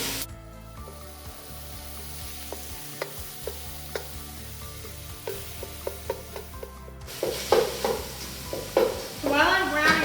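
Room-temperature hamburger meat sears in a hot pot while a smasher mashes and stirs it, giving steady sizzling with repeated scraping knocks that grow louder and busier toward the end.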